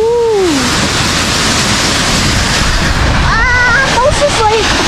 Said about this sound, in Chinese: 看这从山顶上一直流下来